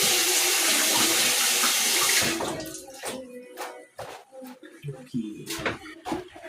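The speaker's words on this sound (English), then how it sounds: "Wash my hands again." Tap water runs strongly into a sink for about two seconds as hands are washed in a home kitchen, then cuts off into drips, splashes and wet hand rubbing, close by, with some speech in between.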